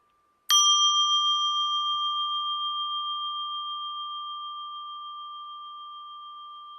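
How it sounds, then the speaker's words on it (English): Mindfulness bell struck once, giving a bright metallic strike and then a long, pure ringing tone that slowly fades over several seconds in near silence. "Allow the bell to fill the mind. Just listen to the sound and breathe."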